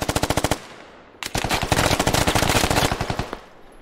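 Machine gun fire in the military shooter game Squad, one short rapid burst, then a pause, then a longer sustained burst of loud, evenly spaced shots.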